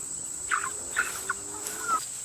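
Slow-growing white broiler chickens give a few short, soft clucks and murmurs at a distance, spaced irregularly over a steady background hum.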